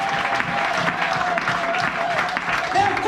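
Church congregation applauding and acclaiming during a French-language sermon, a steady dense wash of clapping throughout with voices mixed in.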